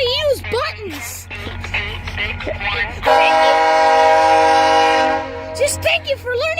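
A VIA Rail 87 passenger train sounds a long, steady horn blast of several seconds, loud and close, following a stretch of chatter and background noise.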